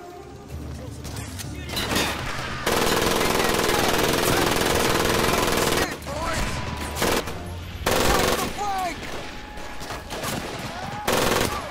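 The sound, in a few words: gunfire in Medal of Honor video game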